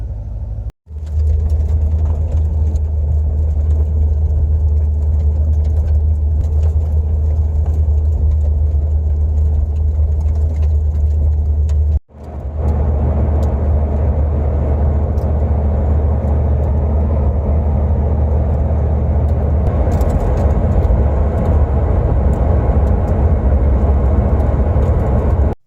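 A Fox-body car engine warming up at idle, a loud steady low rumble that continues for the whole stretch with two brief dropouts.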